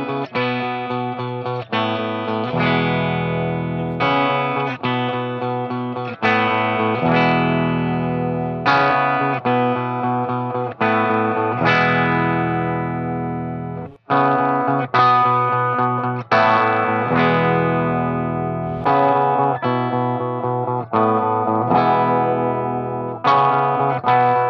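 Heavily distorted electric guitar played through 200 feet of cable, with loud, steady chords and riffs that change every second or two over about twenty-five seconds, heard alone without talking.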